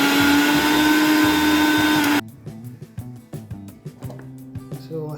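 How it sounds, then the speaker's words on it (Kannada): A mixer grinder whirs loud and steady, blending ginger, garlic, mint, coriander and green chillies into a paste, then cuts off abruptly. Quieter clinks and irregular knocks follow. "ಸೊ ಬನ್ನಿ ಮಿಕ್ಸರ್ಗೆ ಹಾಕೋಣ."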